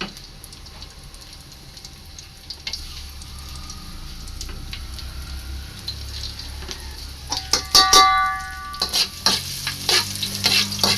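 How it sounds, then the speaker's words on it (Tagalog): Garlic sautéing in a home kitchen while cooking patani, a soft steady sizzle with scraping stirs that grows busier and louder toward the end, with sharp spatula clinks and crackles. "gisa tayo ng bawang"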